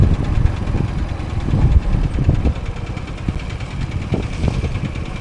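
A scooter engine drones steadily while riding on a road, a rough, close mid-pitched hum with faint vibration and wind rumble, no voices.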